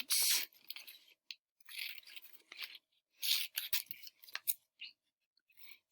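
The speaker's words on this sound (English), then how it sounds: "you're going to need to cut your letters apart" Scissors snipping apart paper letters for a fall craft, heard as several close, crisp cutting bursts separated by short pauses.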